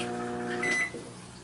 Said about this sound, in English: So I put it in the microwave, 40 seconds.